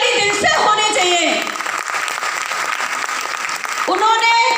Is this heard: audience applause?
yes